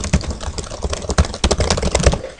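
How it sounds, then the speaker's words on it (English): Rapid, continuous clatter of keys typed on a computer keyboard, close and fairly loud, with no pauses. "while I type, I'm just going to lean over my keyboard"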